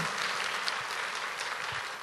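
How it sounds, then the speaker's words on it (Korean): A church congregation at a navy headquarters church Bible conference applauds the lecturer, a thick continuous sound of many people clapping at once, loud and sustained. "우리 귀한 강의해 주신 우리 강사님께 큰 박수 부탁드립니다."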